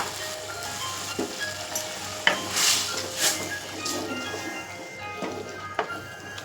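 A spoon stirs food in a hot pan after salt is added, a low steady sizzle under scattered scraping strokes and a few light clinks of utensil on metal, close and moderate in level.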